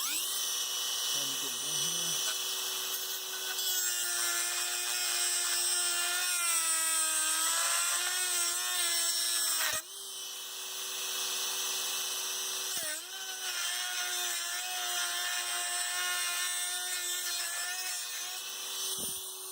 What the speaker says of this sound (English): Just using a Dremel.